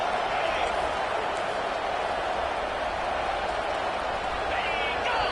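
Stadium crowd noise in a Madden or NCAA football video game, a continuous broad roar of cheering fans that holds at a steady level throughout.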